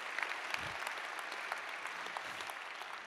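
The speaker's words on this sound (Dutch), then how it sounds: "Mag een groot applaus voor deze experts." Steady applause from an audience at a school awards ceremony in honour of invited experts, a fairly faint, continuous patter of many hands with a few sharper individual claps standing out.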